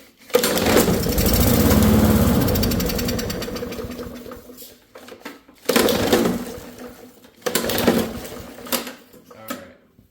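An old push lawn mower engine sputters and runs in uneven bursts: a long loud rattling stretch, then two shorter surges separated by near silence, close to the microphone.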